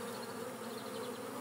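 A dense, steady buzzing hum of honeybees at a Kenyan top-bar hive, the swarm close and continuous throughout with no voices.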